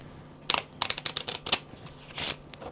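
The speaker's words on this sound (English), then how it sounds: "what I do is kind of shuffle these in" Tarot cards being shuffled, a quick series of crisp riffling snaps and flicks, close and fairly quiet, with a brief rustling burst near the end.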